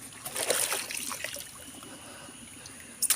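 Water splashes and trickles as feet are washed outdoors beside banana and coconut groves. Short, close splashes come early and again at the end, with a quieter lull in between.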